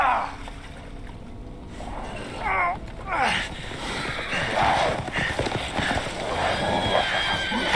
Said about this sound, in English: These guys ride horses too?